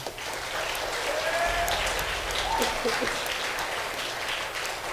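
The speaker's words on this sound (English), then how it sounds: "could we give them also a clap this morning?" A church congregation applauds during a Sunday morning service, with a steady wash of many hands clapping at moderate loudness that holds evenly throughout.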